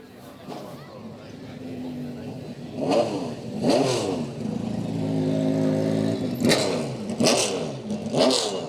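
Acura prototype race car revving on a track at a vintage car event, rising and falling engine sweeps repeating several times over steady background noise, fairly loud and close.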